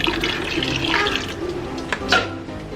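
Water runs steadily from a tap at home during a haircut, a close, continuous splashing flow that swells slightly with a brief gush near the end.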